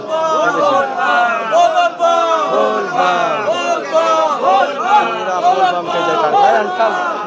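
Dense crowd of pilgrims at Baba Baidyanath Dham on the second Monday of Sawan, many voices chanting and shouting together in a loud, close, continuous mass of overlapping calls.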